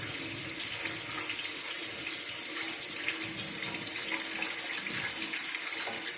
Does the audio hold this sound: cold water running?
yes